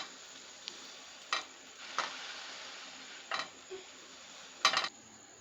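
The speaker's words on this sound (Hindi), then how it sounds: "ये देखिए इस तरह से मायोनीज़ लगाकर हम इसे लाइट सा फ्राई करेंगे" Soft, steady frying sizzle of a burger bun frying in mayonnaise in a pan, with a few sharp clinks and scrapes of a utensil against it scattered throughout.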